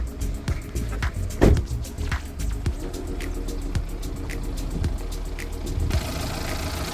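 A used Kia New Morning SLX engine idles, aged, with a slight gasket oil seep, giving a steady close-up hum and a rapid regular ticking from the engine bay.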